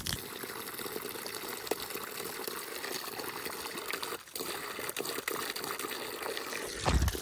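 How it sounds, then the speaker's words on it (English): Fresh water is poured to top off an animal's water supply, a soft steady trickle that runs continuously with a brief break midway and a small bump near the end. "we're gonna get him a little bit of freshwater top off"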